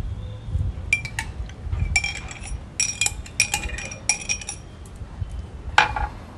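Salad tossed with dressing in a bowl, utensils clinking and scraping against the dish in irregular close bursts with soft rustling between.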